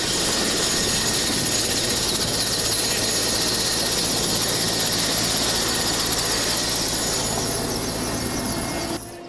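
A helicopter carrying relief supplies such as boxes of tuna and water roars steadily from inside the cabin, a loud, unbroken engine and rotor drone throughout with no talk.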